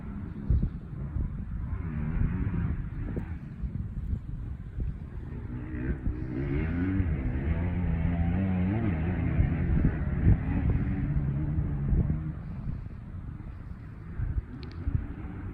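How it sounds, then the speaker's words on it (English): A car drives along a road in a valley, a low engine hum that swells as it comes closer and then eases off, heard from a distance with faint wind noise. "We have a car coming"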